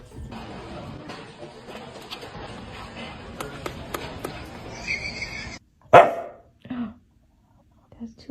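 A dog barks loudly and sharply while its owner, indoors, coaxes it to bark softly; bursts of loud barking follow, then a single bark stands apart amid brief quieter moments.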